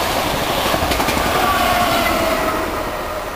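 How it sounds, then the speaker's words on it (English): A two-car turbo train passes Needham Lake, a steady broadband rumble and rush of rolling stock close by with faint high wheel squeal, holding loud throughout. "There's the two-car turbo now."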